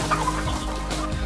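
Kadaknath chicken from a Ranchi market gives a few short clucking, gobble-like calls over a steady, fairly loud background hum, with no voices.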